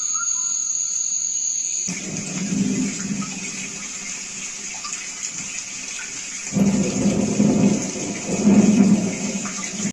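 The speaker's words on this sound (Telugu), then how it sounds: "కొంతమందికి రెయిన్ సౌండ్ బాగా నచ్చుతుంది" A speaker lamp plays a rain and thunder nature track: steady hissing rainfall throughout, with low rolling thunder swelling in the middle and growing louder toward the end.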